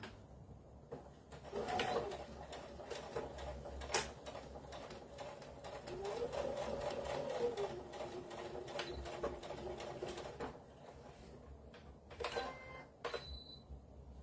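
A domestic sewing machine runs at a low, steady level basting vinyl on a glasses pod, a faint continuous whirr with a few brief clicks and taps along the way.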